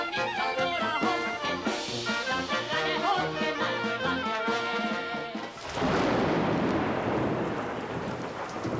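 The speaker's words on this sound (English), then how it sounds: "a torrential rainstorm threatened to wash away months of work." A torrential rainstorm with thunder roars in as a dense, loud wash of heavy rain, right after a passage of lively music.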